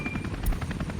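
An Mi-8 helicopter in the Soviet city-building game Workers & Resources: Soviet Republic, its rotor chopping in a steady, rapid pulse with a continuous low engine drone, close and fairly loud.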